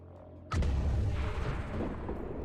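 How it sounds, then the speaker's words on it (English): Flashbang grenade going off in XCOM 2 with the Long War of the Chosen mod, a single sharp bang followed by a loud rolling rumble that slowly fades. "Now I can just throw flashbang on the sectoid Abjura, right?"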